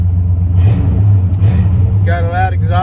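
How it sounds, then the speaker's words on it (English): A four-wheel-drive truck with a slight rod-knock tick and a loud aftermarket exhaust revs close by, giving a deep, throaty rumble that surges and eases, with a voice briefly over it near the end. "got a loud exhaust on her now. Yeah, she sounds lit."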